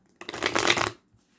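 A deck of tarot cards is shuffled by hand in one close, continuous riffling burst of about three quarters of a second, with no talking over it.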